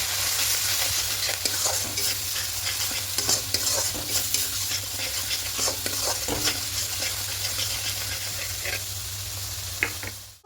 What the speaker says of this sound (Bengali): দিয়ে খুব ভালো করে একটু কষিয়ে দেবো